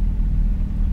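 Porsche GT3RS running on the race track at Atlanta Motorsport Park, a deep, continuous low engine rumble heard from inside the car for a short moment.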